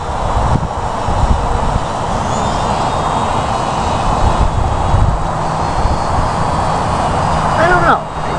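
A Parkzone UM Spitfire micro RC plane flies at half throttle, giving a steady, fairly loud buzzing motor drone that holds evenly throughout, with voices talking over it.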